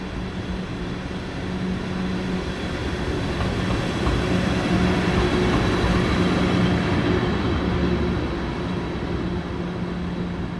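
Old 50-year-old Taiwanese express train locomotive moving through a station, a steady loud rumble with low engine drone and faint rail clatter, continuous and close throughout.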